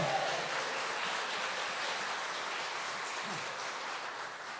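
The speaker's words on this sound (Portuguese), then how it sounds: "Pode aplaudir ao Senhor." Church congregation applauding during a sermon, a faint, continuous hiss of many hands clapping at a distance, even in level from start to finish.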